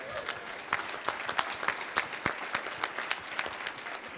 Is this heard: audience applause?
yes